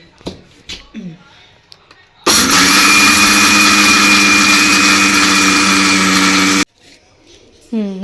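Dry curry leaves ground in an electric mixer grinder, a loud steady whirring motor that runs for several seconds in the middle, with quieter handling sounds and brief talk before and after.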